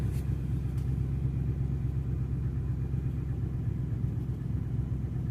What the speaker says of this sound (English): It's like a little small rattling sound. Which I know I probably have a bad lifter